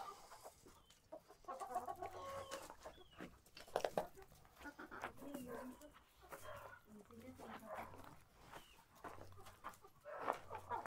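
Hens cluck and chatter softly all around inside a large henhouse, with a dog barking now and then and people talking nearby.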